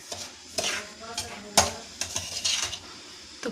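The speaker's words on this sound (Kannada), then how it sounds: "ಈಗ ರವೆ ಚೆನ್ನಾಗಿ ಹುರ್ಕೋತಾ ಇದ್ದೀನಿ." Semolina roasting in ghee in a pan for upma, heard as a low frying hiss with several sharp scraping strokes of a spoon stirring it against the pan.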